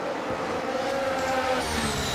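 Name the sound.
F1 cars colliding on track in video game F1 23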